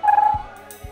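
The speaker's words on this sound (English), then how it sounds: "That sound was TweetDeck." A TweetDeck notification plays once as a short, bright electronic chirp, clear and close. Soft, muffled handling noise follows it.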